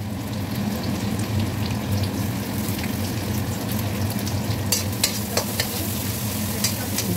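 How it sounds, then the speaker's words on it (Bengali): Onion and capsicum frying in oil for egg fried rice with ginger and garlic: a loud, continuous sizzle with a rain-like hiss, later joined by sharp clinks and scrapes of a spatula stirring the pan. "পেঁয়াজ ক্যাপসিকাম দিয়ে এবার ওটা একটু ভাজা ভাজা করছে"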